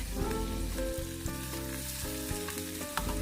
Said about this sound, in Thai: ใส่กุ้งแล้วก็ปลาหมึก